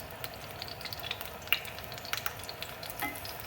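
Scallions crackle and sizzle in hot oil in a pan as they are swirled around, a steady frying hiss scattered with small pops and spatters, close and moderately quiet.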